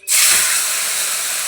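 Bottle gourd greens hit hot oil in a pan with a loud, sudden burst of sizzling that holds steady as a dense hiss, alone with no voices.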